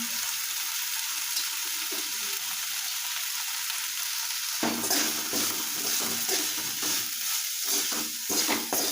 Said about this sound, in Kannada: ಈಗ ಮೀಡಿಯಮ್ ಫ್ಲೇಮಲ್ಲಿ ಇಟ್ಕೊಂಡು ಚಲೋ ಹುರ್ಕೋತೀನಿ ನೋಡಿರಿ